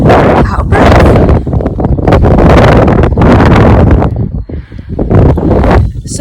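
Strong wind buffets the microphone on an exposed hilltop in the Peak District, Derbyshire, roaring in loud continuous gusts that dip briefly before surging again, with no talk over it.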